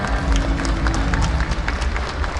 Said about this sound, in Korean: 여러분 올라오실 때 더욱더 뜨거운 박수와 환영을 주시기 바랍니다